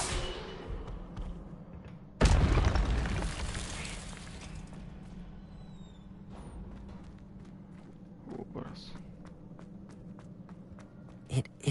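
An Incendio fire spell cast in the video game Hogwarts Legacy bursts out loudly and abruptly, then its roar fades away over a couple of seconds. Footsteps and softer game sounds follow under a low, steady background hum.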